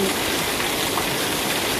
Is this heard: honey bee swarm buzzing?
no